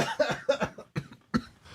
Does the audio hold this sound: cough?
yes